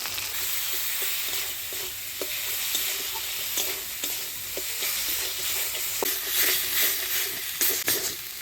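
A spice paste of coriander, cumin, ginger and chili with garlic, turmeric, salt, onion and tomato sizzles and fries in a pan while a spoon stirs it with scraping knocks, close and steady, with no talk.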